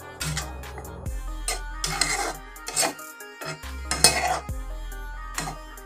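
A metal spoon scrapes and clinks against a pan while onion leaves are stirred into a fish curry, several distinct bursts of scraping separated by short pauses, close and alone without talk.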